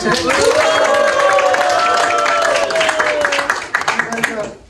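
An audience claps at a church family Christmas gathering, a dense burst of applause mixed with voices and a tonal sound, thinning to scattered claps near the end.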